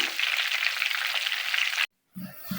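Pizza pouch nuggets fry in hot oil with a steady, close, loud hiss and crackle that cuts out abruptly and then returns more quietly with a few soft knocks.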